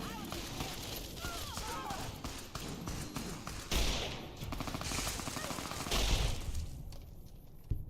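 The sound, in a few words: machine gun fire in video game Fallout New Vegas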